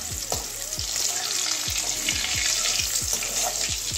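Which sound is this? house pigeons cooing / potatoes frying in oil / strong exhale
potatoes frying in oil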